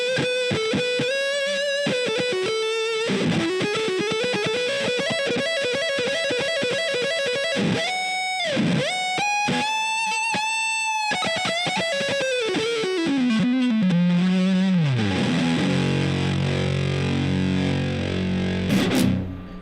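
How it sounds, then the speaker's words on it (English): An electric guitar played through the fuzz channels of an Earthquaker Devices Hoof Reaper pedal rings out in heavy, saturated tones, with held notes, slides and choppy rhythmic stabs over nearly twenty seconds and no voices. "So there it is, your Hoof Reaper. Just the fuzz channels."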